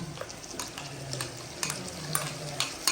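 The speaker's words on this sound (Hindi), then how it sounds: "अब हम इसमें डालेंगे 3 अदद टमाटर जो हमने पेस्ट इनका बना लिया है" Chicken frying in a karahi as tomato paste goes in, with a steady loud sizzle and occasional light clinks of a utensil against the pan, close up and with no talking.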